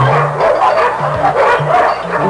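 A crowd of abandoned dogs in a packed shelter kennel keeps up continuous overlapping barks and yips, loud and close, with some higher whining calls mixed in.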